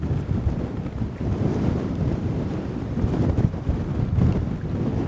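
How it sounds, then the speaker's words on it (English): Strong wind batters the microphone by the water near a castle in Fife, a constant loud roaring rush with gusting swells and possible waves underneath, no voices heard. "The weather is incredible, the wind is unbelievable"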